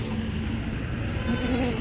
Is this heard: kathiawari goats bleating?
yes